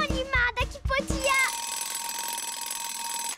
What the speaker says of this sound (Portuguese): Meu alarme tocou.